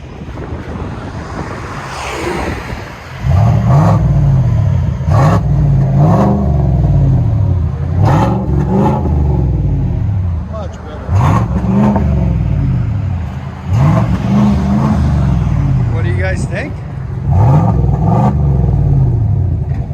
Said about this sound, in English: Now you can actually hear the idle of it.